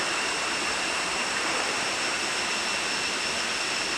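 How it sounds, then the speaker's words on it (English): Jungle waterfall pouring steadily at the top of the falls, a constant broad rushing roar with no voices, close and unbroken throughout. "This is the waterfall I showed you before."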